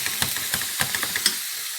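Minced chicken sizzles in a frying pan with olive oil, a close, steady hiss broken by small crackles and light scraping pops throughout.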